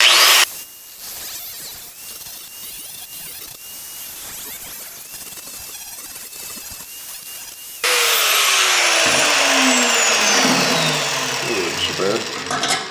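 A metal lathe spins with a prototype jig set up between centers, first a steady mid-level whine and rattle, then a louder, harsher grinding rush with rising tones as sparks fly, continuing to the end.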